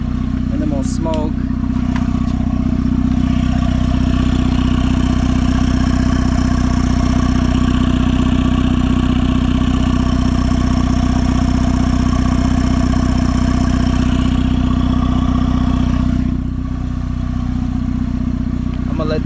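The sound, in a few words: turbocharged car engine idling while warming up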